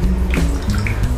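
Clean water pours from a cup onto facial cleansing foam, a steady close trickle and splash that runs without a break.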